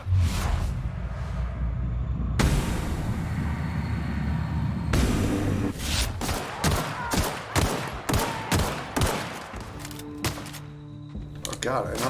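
Rapid gunfire from The Outer Worlds, a dense run of sharp shots in quick bursts that grow more clustered in the second half, with a voice talking over the fighting.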